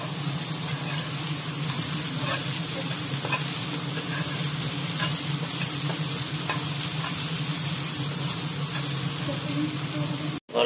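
Ground black pepper fries in a pan for corn chaat with a constant, loud, close sizzle and faint scraping from stirring, then cuts off abruptly at the end.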